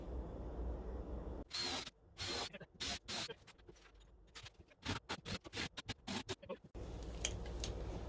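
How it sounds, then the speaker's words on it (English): Short bursts of a small power drill whirring in and out while drilling pilot holes for self-tapping screws in an RV laminate floor install, several quick starts and stops in a row, close up, then quieter background noise. "maybe even pre-drill some small holes before I run the actual self-tapping screws in"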